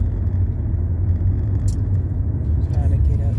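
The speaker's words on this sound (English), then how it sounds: "look at this car up here." A car on the road, heard as a steady low engine and tyre rumble throughout, with a brief faint hiss partway through and no clear talk.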